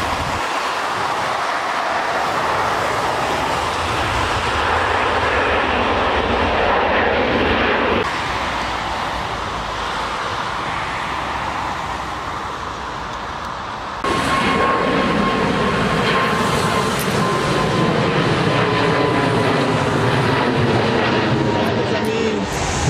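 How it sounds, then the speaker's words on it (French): An airplane takes off from the runway at Düsseldorf airport, a loud, steady engine roar that fills the whole stretch and shifts in intensity twice along the way. "C'est un décollage qui est en face de nous, un avion qui va quitter la piste est là."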